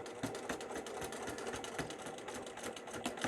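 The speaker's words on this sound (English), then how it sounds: "we're just going to sew as close up to that zipper as we can" A sewing machine stitches steadily along the edge of a zipper on a small fabric pouch, with a fast, even mechanical chatter that runs close and loud without a break.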